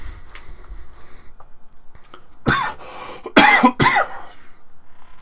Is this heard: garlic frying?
no